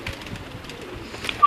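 Pigeons on a rooftop in Gujrat give soft, faint coos against quiet background hiss, brief and low, with a slightly stronger call near the end.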